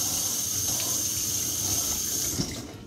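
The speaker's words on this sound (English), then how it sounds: "I'm gonna rinse off the knife." Tap water runs steadily as a kitchen knife is rinsed under it after slicing nectarines, a continuous close hiss of flowing water that stops abruptly near the end.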